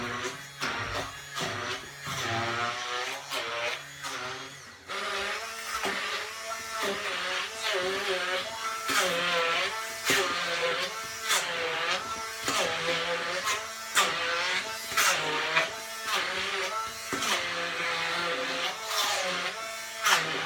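A food processor blends chickpeas and garlic for hummus, its motor whining and surging unevenly as the contents churn, running continuously at close range.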